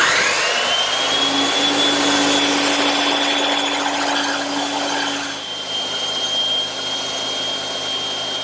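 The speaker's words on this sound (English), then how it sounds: "So I'm just going to take my time back at the bandsaw." A bandsaw cuts wood freehand for a garden bench, producing a loud continuous motor whine and rushing blade noise with a steady tone that shifts partway through as the cut progresses.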